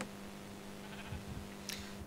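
Minecraft sheep bleat faintly a couple of times over a quiet, steady tonal background hum.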